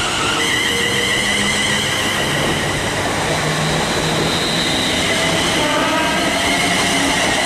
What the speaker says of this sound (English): 3:54:07 now departing from Oxenhome to Manchester Airport